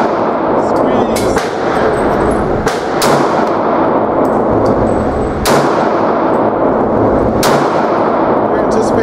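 Repeated loud gunshots from a Glock 22 pistol at a shooting range, about five sharp booms spaced irregularly over a steady noisy background.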